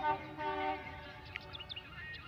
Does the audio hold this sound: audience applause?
no